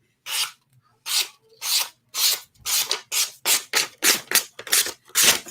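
A freshly sharpened knife slicing through paper in a series of about ten crisp rasping strokes, spaced and then quickening, close and clear with no talk.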